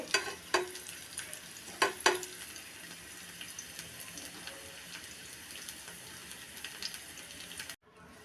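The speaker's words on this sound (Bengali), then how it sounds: "পেঁয়াজগুলো এখন ভেজে নিব" Onions frying in a pan with a continuous soft sizzle, a few sharp utensil scrapes early on, before the sound cuts off abruptly.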